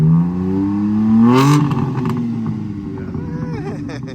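A BMW G82 M4 exhaust with its valves open revs loudly and close, rising to a sharp peak, then falling into a rumbling idle with crackles.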